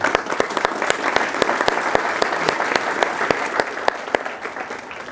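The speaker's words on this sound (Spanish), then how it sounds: "Un aplauso." Audience members at a talk on the life cycle of plastic packaging give a round of applause, many hands clapping loudly and steadily with sharp individual claps standing out, fading slightly at the end.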